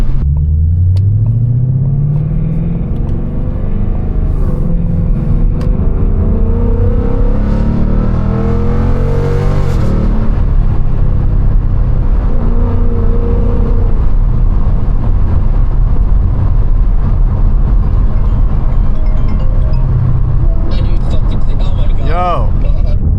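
A straight-piped Ford Mustang GT with a 10-speed transmission drives along, its engine rumbling loud and close. Revs climb early on, then settle into a deep, continuous drone that runs for the whole stretch.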